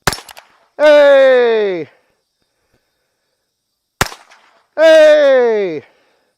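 Two sharp, close cracks from a Ruger Wrangler .22 LR revolver, spaced about four seconds apart. Each shot is followed by a long, loud shout from a man.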